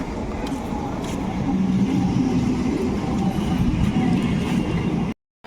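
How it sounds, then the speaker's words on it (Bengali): A train arriving at a station rumbles loudly and steadily nearby, with a deep rolling roar and faint rattling, before the sound cuts off abruptly. "ট্রেন চলে এসছে"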